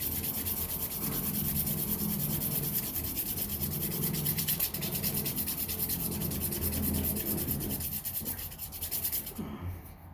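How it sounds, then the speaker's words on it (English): A wooden pipe is rubbed with 120 grit sandpaper, a continuous close scratchy sanding stroke that runs steadily for about nine seconds before stopping. "this is the same piece of sandpaper I used on the first one"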